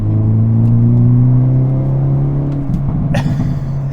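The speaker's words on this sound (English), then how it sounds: "And then hear that backfire as well." A 2022 Hyundai Elantra N engine drones loudly at steady revs while accelerating, then a quick crackle and sharp backfire pop burst from the exhaust near the end.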